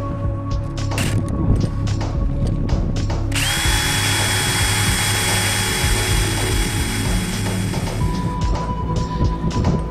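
Power drill boring holes on a boat to mount a solar panel, a loud continuous whine that jumps to a higher, harsher pitch partway through, with rattling mechanical noise underneath throughout.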